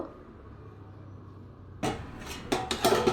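A lid set onto a cooking pot of simmering fish curry with peas, heard after a quiet stretch as a sudden metallic clank followed by several sharp rattling knocks close by.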